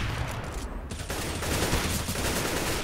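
Counter-Strike gunfire on the dust2 map, a dense continuous rattle of rapid shots over about three seconds, loud and close with no speech.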